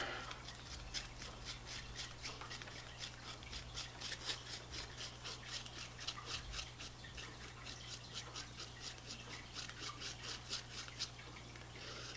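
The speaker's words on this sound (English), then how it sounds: "Mix it up with my little cardboard mixer." A cardboard stirrer mixes bed liner coating in a small container, making a soft, steady, rhythmic scraping and rubbing, stroke after stroke, close and quiet.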